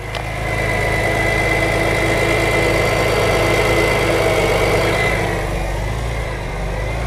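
An old sports car's engine runs steadily at idle, close and loud, with a busy mechanical texture that may hold the ticking, easing slightly near the end.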